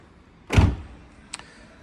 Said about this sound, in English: Let's just close this door.